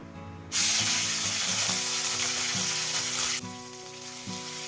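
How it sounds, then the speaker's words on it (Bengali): Ginger paste sizzles hard in hot oil with cumin and bay leaf for a Bengali fish curry, a loud, close burst of frying that starts suddenly and drops back after about three seconds. "আদা থেকে কাঁচা গন্ধ দূর হওয়ার জন্য এক মিনিটের মতন তেলের মধ্যে ভেজে নেবো"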